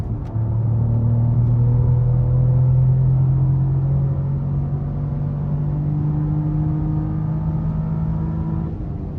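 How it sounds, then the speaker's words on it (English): A Cadillac CT4-V Blackwing accelerates hard on a mountain road, its engine droning loud and close from inside the car with a rising pitch through the gear, then holding a steady high rumble. "I just wanted to open the car up slightly"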